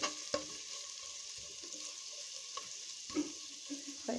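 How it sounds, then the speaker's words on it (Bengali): Spices sizzling and being stirred in a pan for a bottle gourd, tomato and egg curry, a soft continuous fry with occasional scrapes and clinks of the spatula, close and quiet. "হয়ে গেছে মশলাটা একটু কষানো।"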